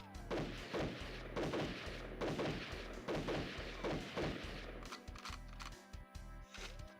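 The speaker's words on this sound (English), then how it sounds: "I've always loved the shotguns in this game." Shotgun fire in the GoldenEye video game comes as a steady series of heavy, booming blasts at close range, with the last bursts sharper and more clipped.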